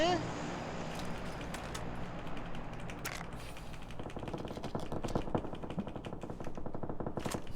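Rapid automatic gunfire bursts in the battle-royale game PUBG, moderately loud under excited talk among players, with a few gaps between bursts.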